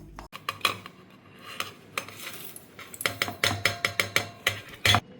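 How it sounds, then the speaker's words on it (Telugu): Poppy seeds roasting in a pan over a low flame, a spoon scraping and clinking against the metal in quiet irregular strokes, then a quicker run of sharp taps near the end. "చక్కగా గసగసాలు కదమ్మా సిమ్లో పెట్టుకొని వేపుకోవాలి"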